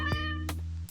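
Cat meowing from the idle game Chonkers: a clear, close, steady tonal meow held throughout with brief clicky accents, no talking over it.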